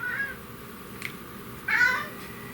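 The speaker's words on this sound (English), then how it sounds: "Kitty cat." A cat meows twice, a short call followed after a pause by a louder, longer one, over a quiet steady background hiss.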